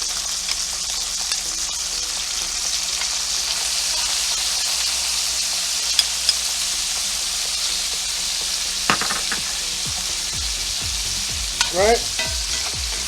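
Porterhouse steak searing in a pan as butter is added, a constant loud hiss and sizzle with a few clinks and scrapes near the end.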